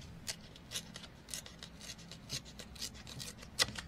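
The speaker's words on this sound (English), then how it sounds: "If I tear that edge, I can always cut it straight if I don't like it." Soft, intermittent rips and scrapes as the edge of a sheet of paper is torn by hand while decorating a mini envelope journal, quiet and close, with short bursts spaced roughly every half second.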